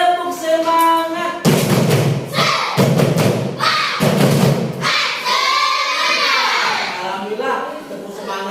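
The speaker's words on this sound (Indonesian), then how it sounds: "Sekali lagi. Tepuk semangat." Schoolchildren in a classroom repeat the 'tepuk semangat' spirit clap: a few loud grouped clapping bursts with young voices chanting alongside, then lively classroom chatter.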